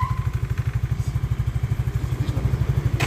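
A motorcycle being ridden and turned close by, its engine thumping in a fast, even, low pulse at moderate revs throughout, with a faint clatter near the end and no talk.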